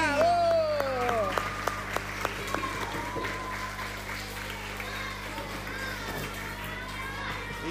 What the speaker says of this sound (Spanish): Un aplauso para todos los